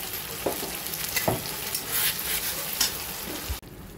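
A paste of tomato, onion, cashew, curd and chili, with ginger-garlic added, sizzles steadily in a pan, close and continuous, with intermittent clinks and scrapes of a spoon stirring before the sound drops away near the end.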